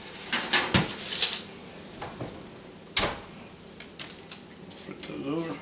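Oven fries on a baking tray are tossed and flipped with a utensil, giving scattered metallic scrapes, taps and clinks at irregular intervals, one sharper clatter standing out.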